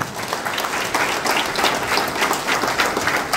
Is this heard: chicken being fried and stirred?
no